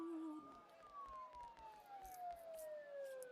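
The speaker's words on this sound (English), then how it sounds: "Don't those sirens sound really close?" A police-style siren wails in a video game, a thin tone sliding slowly downward at a moderate distance, while a person talks quietly over it.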